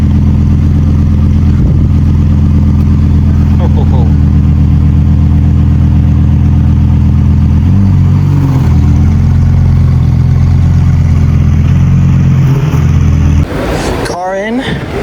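A Ferrari STO sports car's engine roars in a steady loud drone, then revs harder as it pulls away near the end, among a busy Monaco street crowd with people talking.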